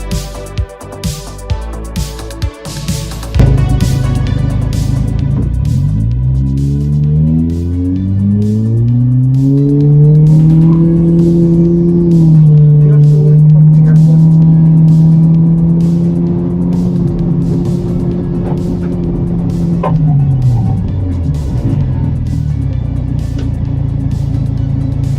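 A Toyota Vios on an autocross course at the Gazoo Racing Academy revs hard, its engine climbing and holding a loud steady drone before easing off, heard close from inside the car.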